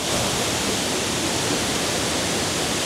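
The Kuang Si waterfall in Laos rushes with a loud, unbroken roar of falling water and spray, heard up close and steady from start to finish with no other sounds.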